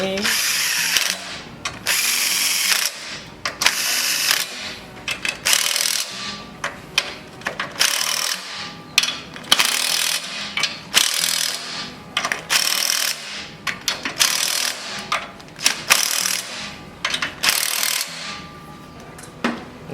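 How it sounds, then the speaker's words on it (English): Battery-powered torque wrench tightening spark plugs, giving loud, close, repeated ratcheting bursts in quick rhythmic runs with short pauses between them, and no talking. "I'm gonna torque them right now with this battery powered torque wrench"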